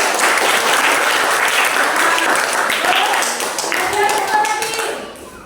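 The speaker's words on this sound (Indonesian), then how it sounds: "Ya, tepuk tangannya untuk Fitri." Enthusiastic applause from a class of young students in a maths lesson, loud and continuous for several seconds before tapering off, with children's voices mixed into the clapping.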